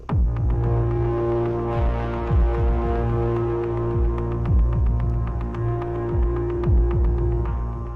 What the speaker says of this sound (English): I think this is a long like sustained synth sound, but it can be used as like a big kick drum.